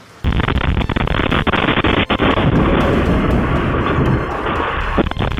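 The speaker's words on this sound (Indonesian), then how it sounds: "Iran merilis rekaman yang memperlihatkan momen ledakan yang diklaim terjadi saat operasi militer Amerika Serikat" A loud, close blast rips through the air around a car dealership in Tehran, followed by sustained roaring, crackling rumble and scattered sharp bangs, with no speech.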